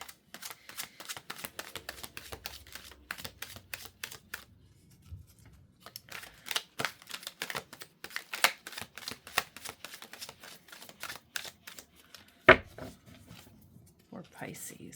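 Repeated quick riffling of a card deck in rapid bursts, with one sharp slap near the end; no voices.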